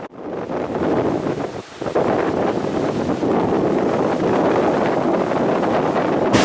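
Strong wind buffets the microphone in a continuous roaring rush, briefly dipping before surging back loud and steady with no voices.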